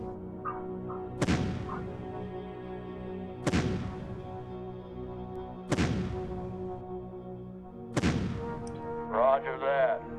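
Artillery fire in the strategy video game Shadow Empire: four heavy booming blasts spaced about two seconds apart, each with a long rumbling tail over a steady low hum, ending in a brief warbling electronic tone.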